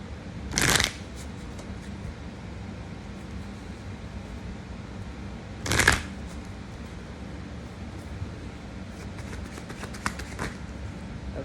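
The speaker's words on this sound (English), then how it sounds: "Let me shuffle this real quick." A deck of cards shuffled for a tarot-style reading, two sharp riffle bursts several seconds apart and fainter flicks near the end, heard against a quiet steady room hiss.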